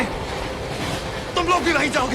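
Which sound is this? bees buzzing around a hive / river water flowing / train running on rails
train running on rails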